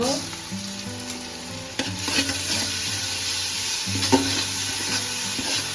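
Ginger garlic paste hits a pan of fried onion and whole spices for Bengali biryani, bursting into a louder, sharper sizzle partway through, with stirring clatter over a steady crackle and low hum.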